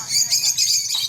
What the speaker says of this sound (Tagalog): marami rin siyang mga ibon dito, lovebird